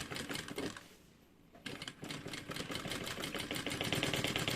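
Sewing machine stitching a zipper onto a pouch: a rapid, steady mechanical chatter close by, briefly pausing for about half a second, then resuming and running continuously to the end.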